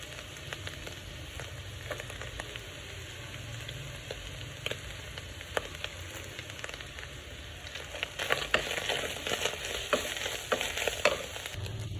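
Onions frying in a pan for an iftar meal, a steady close sizzle with scattered crackles and occasional stirring clicks that grows slightly louder toward the end, with no voices.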